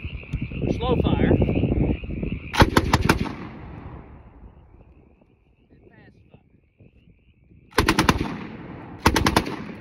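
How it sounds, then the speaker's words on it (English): An M1918A2 Browning Automatic Rifle fires short bursts in its slow fire mode, each a loud, close, evenly spaced string of a few shots, with echoing tails and quiet pauses between bursts. "I'm gonna show you all the difference in the slow fire mode of the BAR, 1918A2, and the fast fire mode."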